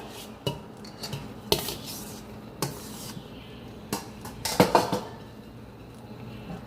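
A metal spoon scraping and clinking against a pot while rice is layered into egg biryani, giving a series of sharp, uneven taps and knocks with short pauses between them, close by and with no talk.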